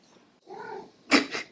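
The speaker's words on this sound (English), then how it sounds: "But I'm pretty sure that meow means dinner time." A house cat meows for dinner, a short soft call followed by a sharper, louder two-part meow, close and alone in a quiet room.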